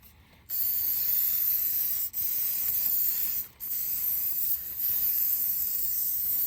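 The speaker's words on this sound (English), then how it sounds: "Doesn't have to be Nissan silicone spray." An aerosol can of silicone spray sprays in steady hissing bursts, several long blasts separated by brief pauses, loud and close.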